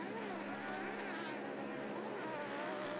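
An off-road UTV race truck roars down the dirt track at Glen Helen in the Lucas Oil Off Road Series, a steady loud engine drone with shifting revs throughout.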